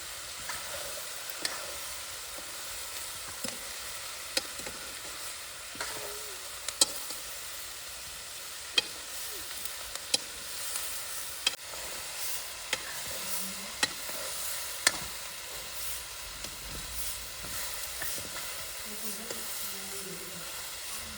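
Food sizzles steadily in a pan with a constant hiss, punctuated by occasional clicks and scrapes of stirring, fairly quiet and continuous.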